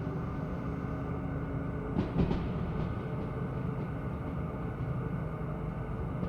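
Locomotive running under dynamic braking on a heavy iron ore train in the Derail Valley simulator: a steady, dense rumble and roar with faint rail clatter, continuous and moderately loud, no voices.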